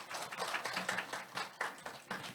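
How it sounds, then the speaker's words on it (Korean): Applause from a workshop audience for education officials: a short, quiet burst of scattered hand claps with an uneven rhythm, heard alone. "박수 한 번 더"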